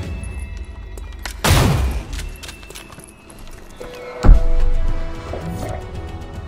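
Scattershot gunfire in the video game XCOM: Chimera Squad: two sharp loud blasts about three seconds apart, each with a short rumbling tail over quiet game ambience.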